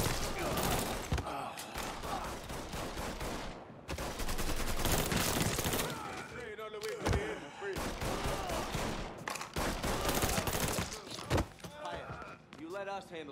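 Dense video-game gunfire from Mafia 3 rattles in sustained volleys and bursts for over ten seconds, with short breaks and voices talking in between.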